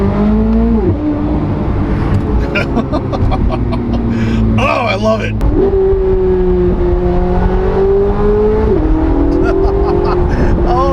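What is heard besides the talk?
C8 Corvette Z06 engine revving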